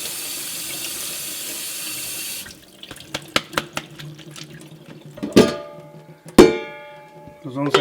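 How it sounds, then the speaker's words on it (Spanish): Cold tap water runs steadily into a sink for the first couple of seconds, then food is rinsed with intermittent splashes and clunks; a voice speaks over part of it. "Con agua fría los vamos a enjuagar bien."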